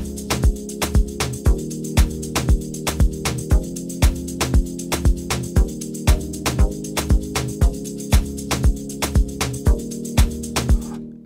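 Serum synth plucks played as chords in an Afro House track, short sustained chord stabs repeating over a steady four-on-the-floor kick, no talking.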